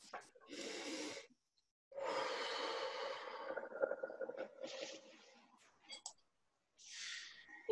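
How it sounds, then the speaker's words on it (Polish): Several long, breathy exhales through the mouth, separated by quiet pauses, close and fairly soft, with a few small clicks between them. "Rób wdech nosem i długi, głośny wydech ustami."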